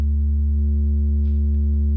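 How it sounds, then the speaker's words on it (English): Sine wave passing through a synthesizer wave folder as its input volume is adjusted, a steady loud low pure tone with faint harmonics, alone. "we get our more or less clean sine wave"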